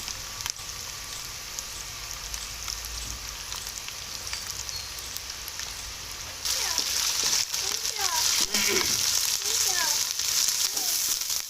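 Spices and chillies fry in a pan for aloo qeema, a soft continuous sizzle that grows louder partway through while a person talks over it.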